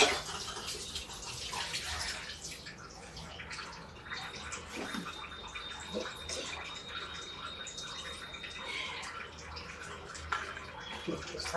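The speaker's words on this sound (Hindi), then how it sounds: "तो मैं हाथ क्लीन कर लेती हूँ।" Running water splashes steadily over hands at a sink while they are washed after making jackfruit pickle, a continuous broadband rush with small drips and splashes, fairly close and with no talk over it.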